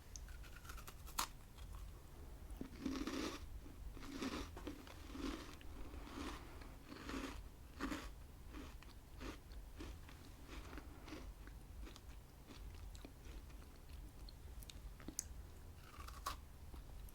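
Crisp, close bites and crunches of a biscuit, repeated at irregular intervals with small crumbly crackles between them, alone and quiet, with no talking.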